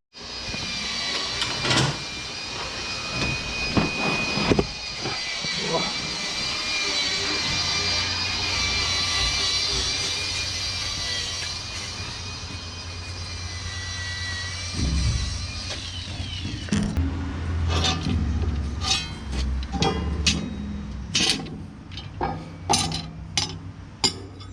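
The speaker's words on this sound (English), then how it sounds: "I guess I'll just continue with the wire wheel." Wire wheel grinding on a Ford dago drop axle for a 1940 Ford Tudor, a steady loud whirring scrape that runs continuously for about fifteen seconds, then breaks into intermittent clinks, taps and short bursts.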